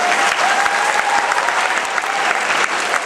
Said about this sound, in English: Another round of applause for our presenters today.